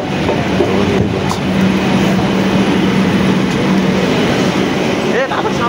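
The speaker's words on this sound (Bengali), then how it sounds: "ট্রেন ঢুকে গেছে" A train rumbles at a station platform with a low steady drone and some clattering, close and loud, while voices talk over it.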